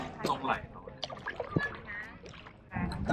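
Kayak paddling on calm park water, with soft splashes and trickles from the paddle strokes at close range, mixed under ongoing talk.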